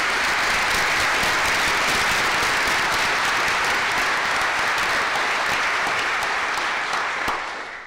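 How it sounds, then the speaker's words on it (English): A church audience applauds the band during a Sunday service, with steady, full-room clapping that holds evenly for several seconds before beginning to thin out near the end. "Let's give a round of applause for the band"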